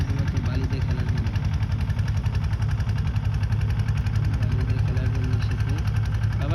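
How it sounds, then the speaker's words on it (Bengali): A boat's engine running on the Jamuna river, a steady, throbbing, knocking chug close by, with voices faintly audible underneath. "নৌকা যাচ্ছে"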